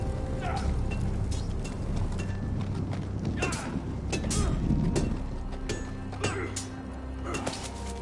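Horse hooves clip-clop steadily in a Game of Thrones video game, a continuous close trotting rhythm over a busy outdoor ambience, with a voice speaking over it.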